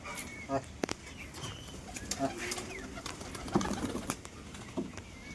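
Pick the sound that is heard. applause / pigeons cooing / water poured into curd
pigeons cooing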